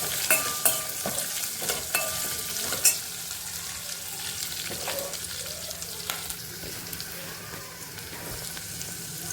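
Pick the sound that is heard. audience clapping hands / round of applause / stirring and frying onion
stirring and frying onion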